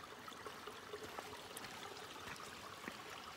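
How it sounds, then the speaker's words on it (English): A small mountain creek flows along a hiking trail near Mount Baker, Washington, a faint, steady babble of trickling water with soft splashes and no talking. "And there's another little creek to cross here."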